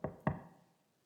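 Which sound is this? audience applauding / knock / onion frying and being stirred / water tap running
knock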